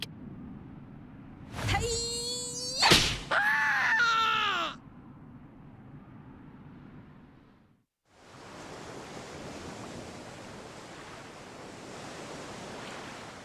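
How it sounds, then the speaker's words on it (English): Boiling sea waves from the video game Dragon Quest XI S: a dense, steady hiss of churning water rises after a brief silence and rolls on, following an earlier stretch of loud game sounds and cries. "The sea, it's boiling."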